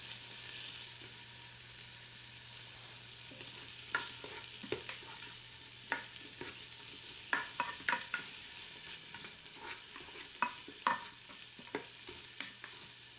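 Celery and onions sautéing in a pot for Filipino chicken pasta soup, with a steady close sizzle broken by repeated sharp scraping clicks of stirring and no talking.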